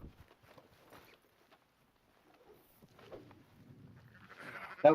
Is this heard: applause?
no